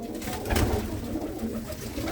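Low, soft cooing from a pigeon, a tagged old hen bird of a breeding line, murmuring steadily through a short stretch with a slight swell in the middle, close by and heard alone.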